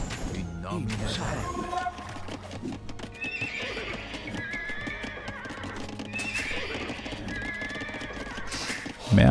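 Horses neigh and whinny repeatedly amid clip-clopping hooves and busy battle noise in the Age of Empires II strategy game, loud and close throughout, with no voice over it.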